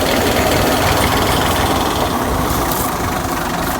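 A tractor engine drives a tubewell pump with a loud, steady, close-up running drone and continuous mechanical vibration throughout, with no voices.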